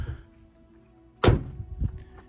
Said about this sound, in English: the last thing you gotta do is just close your hood